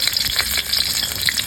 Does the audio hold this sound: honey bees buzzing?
no